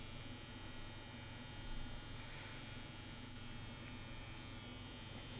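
CNC WE tattoo machine set to 8 volts, running steadily with a continuous electric buzz and hum throughout, close and moderately quiet, with no talking.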